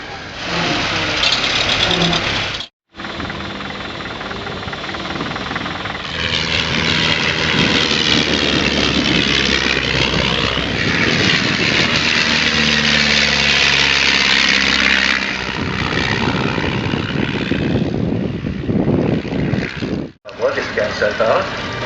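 A coal-fired steam traction engine of an 1856 design runs loudly and continuously with a rough, throbbing mechanical roar that drops out briefly twice.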